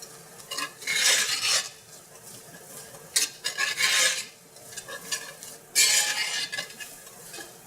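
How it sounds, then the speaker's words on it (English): Tomato puree being stirred into a roux in a pan, with bursts of close, scraping stirring strokes and a light sizzle between them. "next I'm going to add my tomato puree"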